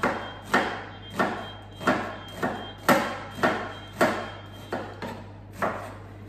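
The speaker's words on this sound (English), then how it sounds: "I'm going to cut through here and slice down" A knife chops an onion on a cutting board in a steady, evenly spaced rhythm of about ten crisp, close knocks, with no voices.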